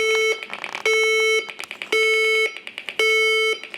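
A medication reminder dispenser alarm, 45 minutes into its dosing period, sounds loud, close electronic beeps in four repeating bursts, each a long tone followed by quick pulsing chirps, with no other sound.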